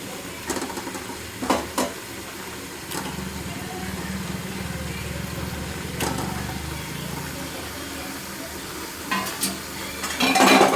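Goat head and trotter meat pieces fry and sizzle in oil in a pressure cooker pot, stirred with steady scraping and occasional clinks of the spoon, while a person talks over the cooking.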